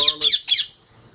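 Three harsh, loud squawks from lacewing cockbirds (parrot-like) in quick succession, close up, then fading to quiet.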